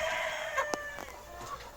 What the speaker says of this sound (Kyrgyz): Ал эми булар болсо Барковская Варвит деген тооктор.